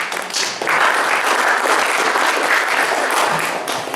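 A church congregation breaks into sustained applause, a dense even roar of many hands clapping that swells quickly and holds steady, filling the room.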